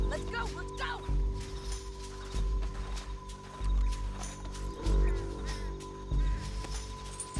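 A horse gallops in Red Dead Redemption 2, its hoofbeats thudding in a regular rhythm through the whole stretch while characters talk over it.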